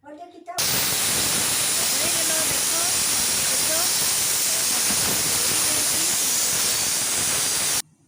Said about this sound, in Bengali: তো বসিয়ে দিচ্ছি আমি সিদ্ধতে কুকারটা।